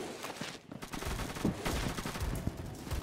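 Gunfire in the video game Phantom Forces, with the BFG 50 sniper rifle among the weapons, comes as a dense, loud barrage of overlapping sharp reports and booms lasting about three seconds.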